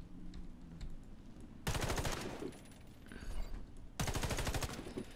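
Rapid automatic gunfire aimed at targets in the shooter game Warface, coming as two long loud bursts of fast repeated shots separated by a quieter pause with faint background clicks.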